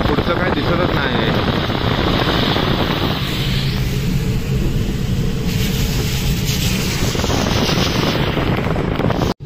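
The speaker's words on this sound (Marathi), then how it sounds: "कुठला एवढा जोरात पाऊस चालू आहे" Heavy rain roars steadily against a car in fog on a road, a dense continuous wash of noise heard from inside the vehicle with little change throughout.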